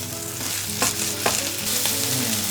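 Bacon fries in olive oil in a frying pan, giving a loud, steady close-up sizzle with occasional sharper crackles and the scrape of stirring.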